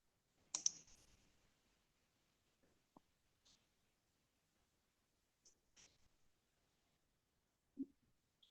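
A computer mouse clicks during an online drone training session: a short cluster of sharp clicks near the start, then a few faint isolated clicks and a soft knock near the end, with long quiet gaps between.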